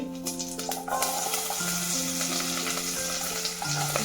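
Mustard seeds and small shallots fry in coconut oil in a pan, a close, steady crackling sizzle with occasional stirring, faint tonal music playing behind it.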